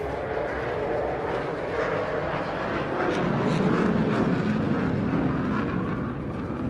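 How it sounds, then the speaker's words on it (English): An F-35 fighter jet flies past at an outdoor gathering, a broad, roaring rumble that swells and stays loud throughout. "Is that F-35 again?"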